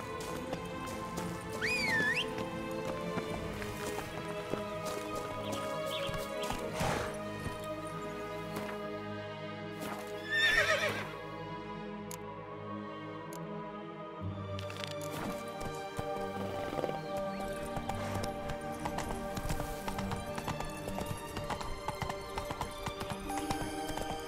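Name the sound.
horse neighing and hooves clip-clopping in The Witcher 3 video game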